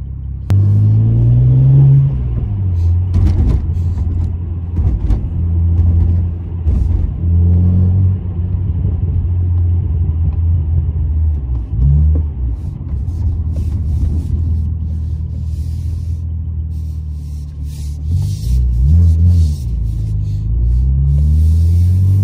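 A BMW E82 1 Series M Coupe with a turbocharged engine rumbles loudly while driving, its revs rising and falling in several surges with deep, throaty pulls.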